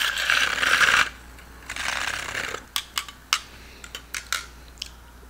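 Protein powder is mixed with water: a second of loud close shaking, a softer burst, then a string of sharp clicks and taps from the container, with no voices.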